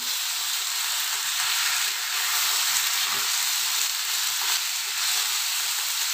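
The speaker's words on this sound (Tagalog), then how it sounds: "Sautay muna natin yung chicken natin." Chicken sautéing in a hot pan for a creamy Filipino pineapple chicken dish, giving a steady, loud, close sizzle and hiss that runs unbroken throughout with no voices.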